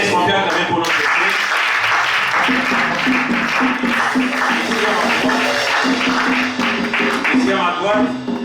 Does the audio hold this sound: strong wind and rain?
no